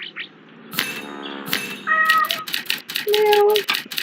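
A cat meows several times in the Murder, She Wrote video game, short rising calls spaced through the scene with soft clicking and game sounds behind them.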